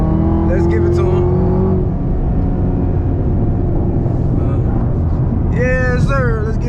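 Chevrolet Camaro ZL1 1LE accelerating hard through Atlanta city streets, a loud, deep engine roar heard from inside the car, with someone talking over it near the start and end.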